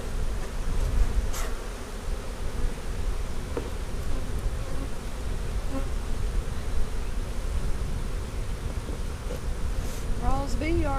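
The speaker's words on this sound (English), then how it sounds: "Rawls bee yard is buzzing today." Honey bees buzzing around hives in a bee yard during an inspection, a dense continuous drone with individual bees passing close by, plus wind noise on the microphone.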